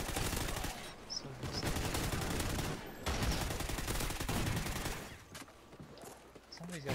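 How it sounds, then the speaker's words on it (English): Shotgun and other gunfire rattle through a Call of Duty Ghosts multiplayer match in dense, continuous volleys with brief pauses, loud and busy, without speech. "somebody's got a shotgun over here"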